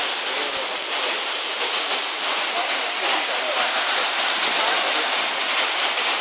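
Wachirathan waterfall at Doi Inthanon, Chiang Mai, thundering with strong spray: a loud, continuous broadband roar of falling water, close and unbroken throughout.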